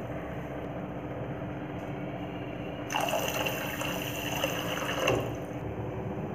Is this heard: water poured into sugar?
yes